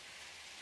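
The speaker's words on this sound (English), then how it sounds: "Like a lot of rain." Heavy rain pouring down steadily during outdoor home renovation work, a dense continuous hiss with no breaks, close and loud.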